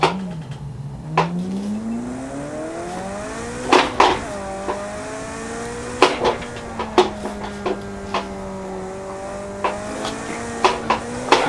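A race car in the Project CARS racing game, played on a Logitech G920 wheel rig, revs and shifts through gears with rising and falling engine whine, while sharp tire squeals and clicks punctuate the run; loud and close, no talk.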